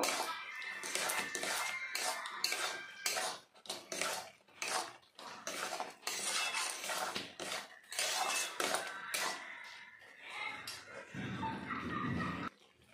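Food with salt and raw mustard oil is stirred in a metal pan, with repeated clattering scrapes and knocks of a utensil, close and fairly loud, while a person talks at times.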